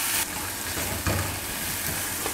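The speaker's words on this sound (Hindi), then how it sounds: "अब इसके अंदर हम डाल देंगे लहसुन का पेस्ट और अदरक का पेस्ट" Garlic and ginger paste sizzles in hot oil over a medium-low flame, a steady close frying hiss with a brief stir or clatter partway through.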